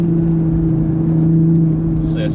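A 2021 Toyota GR Supra GTS in sport mode pulls hard with a steady, loud engine drone from inside the cabin, the tone holding firm while a voice speaks over it.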